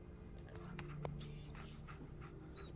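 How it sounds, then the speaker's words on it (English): A dog in the video game Fallout 4 pants softly in quick, steady breaths, faint and close, with a few light whimpery notes over a low background hum. "Yes, get a dog!"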